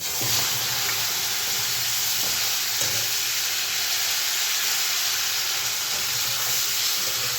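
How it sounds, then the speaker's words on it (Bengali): Potatoes fry in oil tempered with cumin and bay leaf for a Bengali koi fish curry. The sizzle is a continuous, even hiss with faint crackles, close and steady throughout. "আলুটা একটু ভালো করে ভেজে নিতে হবে"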